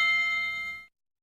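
A single bright bell ding in a cartoon rings out clear and close, holding its metallic tone for under a second before cutting off abruptly to silence.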